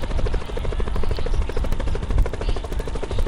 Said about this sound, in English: I'm gonna just get the helicopter and dip